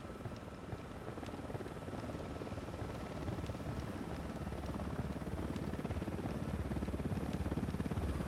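A helicopter in the video game Ghost Recon Wildlands, a steady, loud rotor chop and engine drone that holds throughout with no talking.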